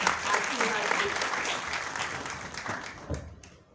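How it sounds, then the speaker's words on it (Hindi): An audience at a foundation event in Lucknow claps loudly to welcome a speaker, the dense applause holding steady before tapering off near the end. "जोरदार तालियों से स्वागत कीजिए।"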